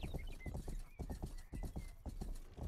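Steady clip-clop of an armored horse's hooves on a road in a video game, a brisk even rhythm heard up close, with a brief whinny early on.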